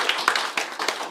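A crowd at a newspaper founding ceremony breaks into quick, lively applause, many hands clapping close together in an uneven patter throughout the short burst.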